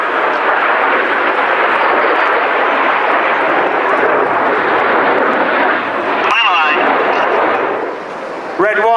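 Red Arrows display jets fly a pull-up manoeuvre at an airshow, a loud, continuous roaring jet rush that fills the air, with a commentator talking over it near the end.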